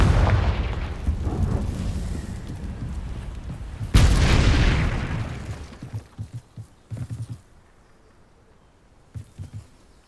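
A Confringo fire spell in Hogwarts Legacy erupts in a loud, rumbling blast that fades, then a second sharp explosion bursts near the middle and trails off into scattered thuds and small pops.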